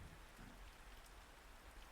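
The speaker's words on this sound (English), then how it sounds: "It's really coming down out there," Heavy rain falls during a storm, a steady dense hiss of drops hitting surfaces with a low background rumble, continuous and even throughout with no voices.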